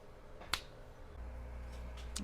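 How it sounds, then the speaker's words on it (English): A single sharp finger snap rings out close and clear early on, then a low steady hum from a woodturning workshop with a lathe fills the rest. "For all you know, I'll snap my fingers, and I'll be right back."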